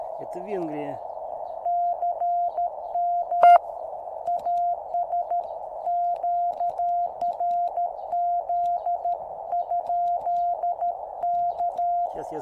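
Morse code from a Hungarian station comes through a QCX mini radio as a pure keyed tone in quick, regular dot-and-dash bursts. A brief voice is heard at the very start before the signal continues on its own.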